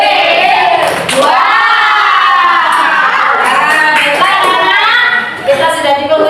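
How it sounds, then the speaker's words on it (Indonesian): A classroom of children clapping for a classmate during a teaching practice lesson, bright rhythmic claps mixed with excited young voices and shouting, loud and close, with an adult voice chanting along. "Tepuk tangan untuk Mas Ferdi"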